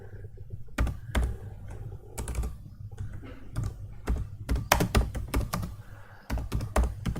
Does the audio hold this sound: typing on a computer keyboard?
yes